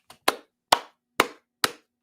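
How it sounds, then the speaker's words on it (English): Five sharp, evenly spaced claps ring out alone over a steady beat, a single person's hands smacking together loud and close with short decays and silence between each. "Round of applause."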